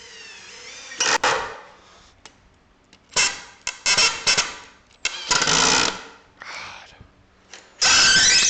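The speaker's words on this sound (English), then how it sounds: "I've never had 2x4s that were this hard to drill into." A power drill drives into hard 2x4 lumber in repeated loud bursts of whining, straining motor noise, separated by quiet pauses, fairly close to the microphone.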